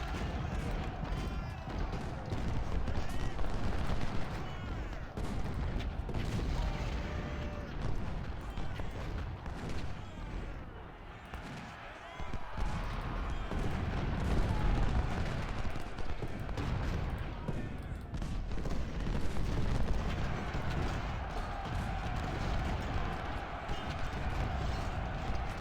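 Cannon and gunfire boom and crackle repeatedly in Ultimate General Civil War at the Battle of Malvern Hill, dense volleys layered with scattered shots and rumbling, with a voice talking over much of it.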